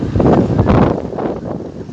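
Strong wind buffets the microphone while riding a bicycle on the road, producing loud, uneven low gusts and rumbling that swell and ease across the moment, with no talking.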